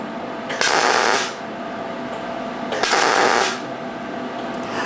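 TIG welding done with a stitching technique, two separate bursts of buzzing arc hiss, each lasting under a second and separated by a quiet pause, close and fairly loud.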